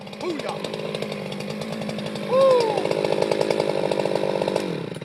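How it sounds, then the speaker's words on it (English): A chainsaw runs steadily throughout at close range, its engine drone continuous with a brief louder rev partway, while someone talks over it. "Fine chainsaw right there, Mr. Boy"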